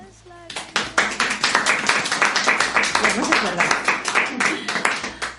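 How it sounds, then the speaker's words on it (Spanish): An audience bursts into loud, dense applause after a speech at a human resources talk, many hands clapping continuously and close, swelling and fading slightly in waves. "Los aplausos han surgido porque han surgido"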